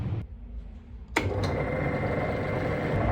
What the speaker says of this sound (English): Now it's time to stitch it all together.